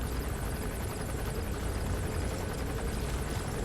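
Gunship helicopter in the video game Metal Gear Solid V: The Phantom Pain, a steady loud rotor and engine drone with rapid rhythmic blade chop, continuous throughout.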